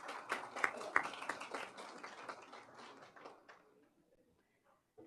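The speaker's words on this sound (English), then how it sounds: "Kindly keep the applause going as we thank all our respected speakers for sparing their valuable time for us" An audience at a maize-to-ethanol seminar applauds, a dense patter of clapping that holds steady for several seconds, then thins out and fades to near silence.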